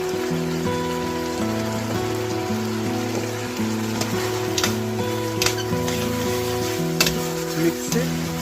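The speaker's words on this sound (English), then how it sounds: "we're gonna put our vegetable, the hardest vegetable first, which is the carrot and the celery" Carrot and celery sizzle in a pot for beef vegetable soup, a steady close hiss with occasional stirring clatters, while tonal music plays underneath.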